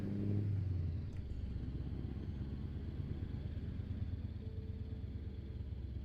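A game vehicle engine with a heavy, chugging exhaust note drones low and steady throughout, a louder burst of revving at the start before settling into a rumbling cruise.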